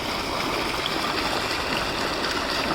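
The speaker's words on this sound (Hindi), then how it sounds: "ये चेक करें, माशाल्लाह पानी का प्रेशर वगैरह हर चीज़" Water gushes from the 4-inch outlet of a 20 HP solar-powered tubewell, a loud, steady, unbroken rush with no pauses or voices.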